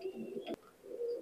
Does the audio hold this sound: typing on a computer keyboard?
no